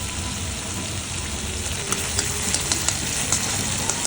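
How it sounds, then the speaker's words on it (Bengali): A spice paste with turmeric and chili powder fries in a pan for a fish curry, giving a steady close sizzle with faint crackles and pops throughout. "মশলাটা বেশ কষানো হয়ে গেছে।"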